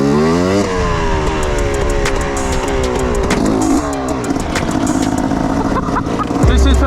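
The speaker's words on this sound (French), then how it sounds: "Ça fait trop longtemps que j'ai plus fait de bavette en moto." Motorcycle ridden in a quarry during a wheelie attempt, its engine loud and close, revving up and down in rising sweeps while someone talks over it.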